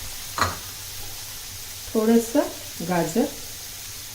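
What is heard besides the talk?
sautéing onion, cabbage and carrot for veg Manchurian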